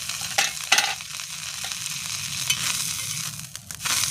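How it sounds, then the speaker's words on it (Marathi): Coriander leaves roast and crackle in a pan over a wood-fired stove, with soft sizzling, scraping stirs and a few sharp clinks as they are turned. "कोथिंबीर भाजून घ्यायची"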